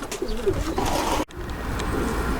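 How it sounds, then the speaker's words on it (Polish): Soft, rolling young pigeon coos up close, a low burbling call that pauses briefly and then continues. "mamy tutaj młodego gołębia"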